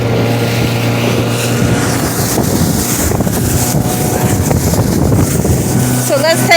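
A 50HP Mercury outboard motor on a Bass Tracker XL boat in open water drones loudly and steadily under rushing wind and water noise, with a faint voice near the end.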